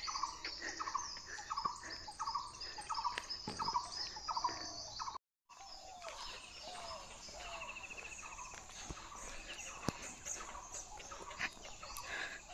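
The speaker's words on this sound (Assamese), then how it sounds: "মানুহ নথকা সময়খিনিত চৰাইবোৰ গোটেই ৰাস্তালৈ ওলাই আহিছে" Birds call repeatedly along an empty road during a morning walk, with rhythmic, fairly near chirps and calls over quiet outdoor ambience, broken by a brief gap.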